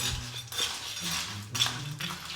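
Spoon clinking against a dish while food is mixed, light metallic taps and scrapes repeating in short bursts, close and fairly quiet.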